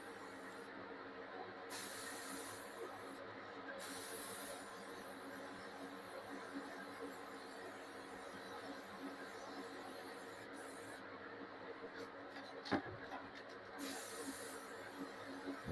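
Aerosol paint hisses in on-and-off bursts while a shepherd blow mold is being spray painted, bright and close, with gaps between sprays and a few faint handling knocks.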